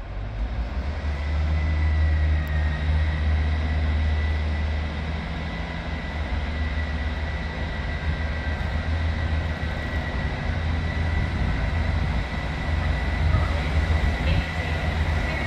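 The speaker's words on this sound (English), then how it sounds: "So this is the last train then." A train pulling into Sheffield station, bound for Liverpool Lime Street, with a steady deep engine rumble and a constant whine, loud and sustained throughout.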